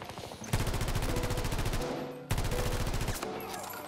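Gunfire in the video game Battlefield 2042: two long bursts of rapid automatic fire, loud and close, split by a brief pause and trailing off at the end.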